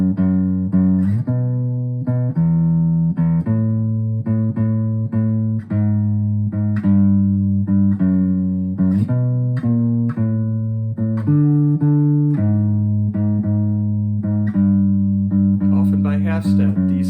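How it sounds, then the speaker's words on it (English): Guitar playing a descending bass line, steady sustained chords stepping down by half steps in an even rhythm, close and clear with no talk. "Listen to the bass, it goes like this."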